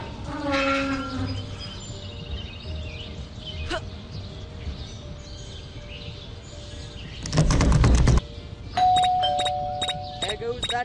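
In the Scary Teacher 3D video game, a bell rings near the end after a loud burst, sounding as a sustained tone with sharp repeated strikes, while game voices and sounds play underneath.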